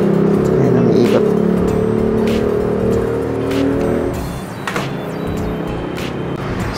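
Honda Wave motorcycle, a Wave Dash, 110R or CX, running on its stand with the speedometer cable removed and the gearbox drive spinning freely. A steady droning engine whirr sits close for about four seconds, then eases to a lower, rougher running sound.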